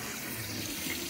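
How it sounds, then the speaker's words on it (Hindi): Water runs from a tap into a container in a home kitchen while greens are being cooked, making a steady, continuous rushing stream throughout the short stretch with no talking. "मीठा पानी भर देना।"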